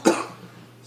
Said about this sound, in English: if you hear those coughs in the video, I apologize.